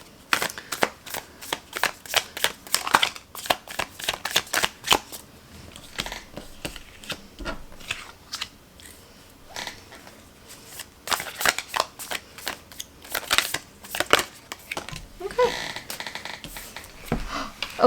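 Tarot cards being shuffled by hand in repeated quick riffling bursts, close and fairly loud, with brief pauses between runs and a few soft card slaps near the end.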